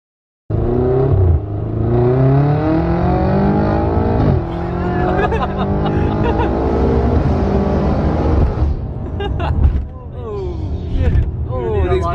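A 750hp Stage 2 BMW F90 M5 with a loud Remus exhaust bursts to life and accelerates hard, its engine note climbing through repeated rising pulls heard from inside the car, with voices briefly audible over it.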